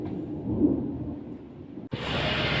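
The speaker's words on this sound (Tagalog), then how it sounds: "ginising na naman ako ng malakas na ulan mga wow" Low rolling rumble of thunder amid a heavy downpour, then a sudden shift to a bright, steady hiss of hard rain close by.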